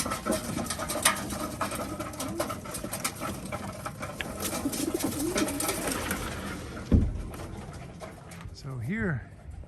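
Racing pigeons coo softly at the end of a race season, low murmuring calls under close conversation and outdoor bustle, with a brief thump midway.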